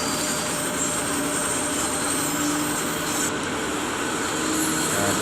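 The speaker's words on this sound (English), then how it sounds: "we can apply the brakes and make the train to slow down" Freight train in the Train Sim World game slowing under braking, a steady loud mechanical rumble and roar that holds constant throughout with no distinct squeal or break.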